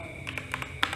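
Keys clack on a Gamen Titan Elite mechanical gaming keyboard in a quick burst of about six close, crisp taps within a second.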